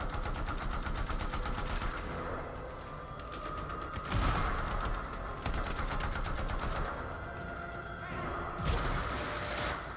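Rapid automatic gunfire in the Anthem video game, a faint but continuous rattling stream of shots with a few heavier bursts, playing steadily throughout without talk.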